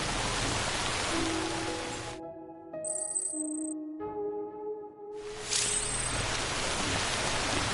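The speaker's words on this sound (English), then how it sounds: "Damn rain won't quit." In the video game Death Stranding Director's Cut, steady, dense rain hiss cuts out for about three seconds, leaving soft sustained tones and a high chime, then the downpour returns just as heavy.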